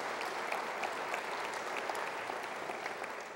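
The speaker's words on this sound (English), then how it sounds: "clap your hands, that's right." Audience at a university state-of-the-address event clapping hands, a steady dense applause sustained throughout at moderate loudness with no talk over it.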